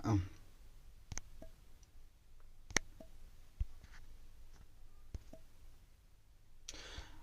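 A computer mouse clicks sparsely, several quiet isolated clicks at irregular intervals, close to the microphone in a quiet room with faint background hiss.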